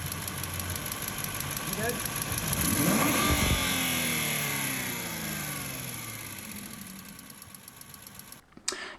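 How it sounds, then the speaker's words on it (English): Aston Martin V8 engine revving up, its metallic ticking growing as speed rises; a loud, close rev swells around the middle, then settles and cuts off near the end. "in this second clip where we rev the engine up, then it actually worsens with speed"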